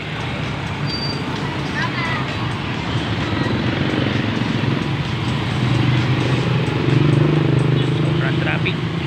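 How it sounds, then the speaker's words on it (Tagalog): Heavy road traffic of cars, motorcycles and buses hums continuously outdoors at Christmas time, with engines swelling nearer toward the end while people talk over it. "Sobrang traffic."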